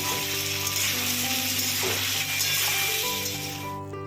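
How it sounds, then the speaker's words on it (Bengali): Cut potatoes seasoned with salt and turmeric fry in a pan, giving a steady, close sizzle that holds level for the whole stretch and fades slightly at the end, with no voices. "এবার এর মধ্যে কাটা যে আলুগুলো ছিল সেই আলুগুলো দিয়ে ভেজে নিচ্ছি।"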